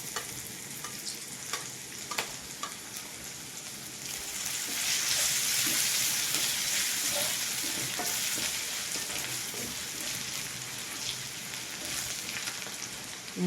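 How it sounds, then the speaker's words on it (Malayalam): Garlic and ginger sautéing in a little oil for a country-style chili chicken, a soft stir and scrape at first, then a loud, steady sizzle swelling from midway and holding to the end. "കുറച്ച് ഓയിൽ മതി അതിലേക്ക് അരിഞ്ഞിട്ട് വെളുത്തുള്ളി ഇഞ്ചി ചേർത്തിട്ടൊന്ന് വഴറ്റിയെടുക്കാം"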